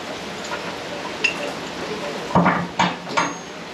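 Metal clinks and clunks from a B&W gooseneck ball hitch pin being flipped and rotated into place on a 2021 Ford F-450 Platinum: a light tap, then three sharp metallic knocks close together near the end, over faint background hiss.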